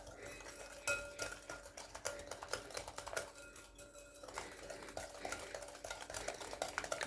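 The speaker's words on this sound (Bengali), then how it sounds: "ডিমটাকে খুব ভালো করে চিনির সাথে ফেটিয়ে নেব।" Egg being beaten with sugar in a bowl, a steady run of quick clinking strokes against the sides, close and fairly soft, with no talking.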